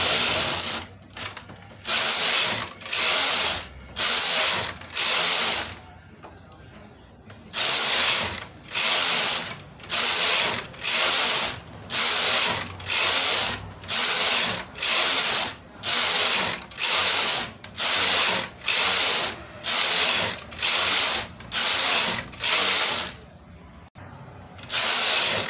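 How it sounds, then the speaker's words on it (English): A chunky knitting machine's carriage is pushed back and forth across rows of yarn, producing a rhythmic series of loud mechanical whirring passes, each about a second long, with a couple of brief pauses. "And knit 80 rows straight up."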